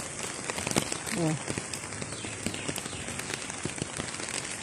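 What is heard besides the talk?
heavy rain falling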